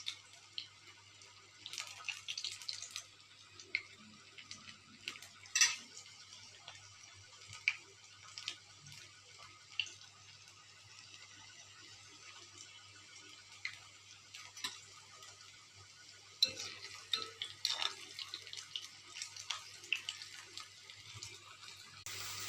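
Cassava finger chips fry in hot oil with faint, scattered crackles and small pops over a steady low hiss, continuing throughout without any speech.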